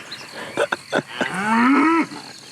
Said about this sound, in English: a herd of brown and white cows, extremely curious about these two passersby